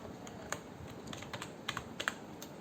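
Fast keystrokes on a computer keyboard while PHP code is entered, a close, uneven patter of crisp clicks with brief pauses and no voice.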